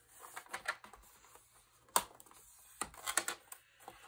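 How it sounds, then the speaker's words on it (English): Paper from a Graphic 45 Flower Market folio being bent into a mountain fold: soft, close crinkles and sharp creasing snaps in irregular bursts, faint and without speech. "Now we're going to bend this. First, we're going to do a mountain fold."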